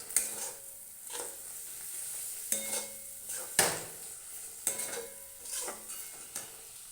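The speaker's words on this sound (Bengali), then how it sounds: "মাশরুমগুলো দিয়ে আমি ভালোভাবে কষিয়ে নেব।" Fried mushrooms being sautéed in a pan, with a steady soft sizzle and repeated scraping stirs and light utensil clinks against the pan, close and without voices.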